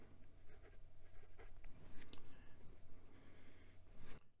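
A Kaigelu 356 fountain pen with a medium steel nib, dip-tested, writes on paper: a steady, soft scratching of the nib for about four seconds, close and quiet.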